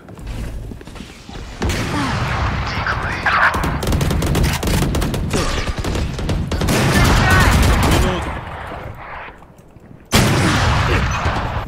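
Video game gunfire in dense rapid bursts, loud and close, with sustained automatic volleys broken by a brief lull before another sharp burst resumes.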